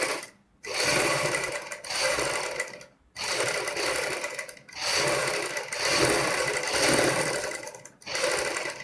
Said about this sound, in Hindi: हम इसको यहाँ से सिलाई मारेंगे इधर से